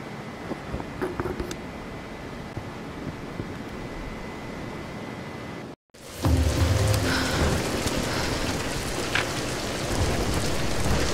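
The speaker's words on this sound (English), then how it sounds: "We're getting closer to the storm." A storm in the Tomb Raider video game, with steady heavy rain and low thunder rumbling throughout, briefly cutting out before returning louder and denser.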